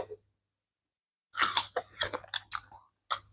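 Crunchy bites and chewing of a fresh plum-type fruit, sweet and crisp, heard as a quick series of close, sharp crunches after a brief pause, with no talking.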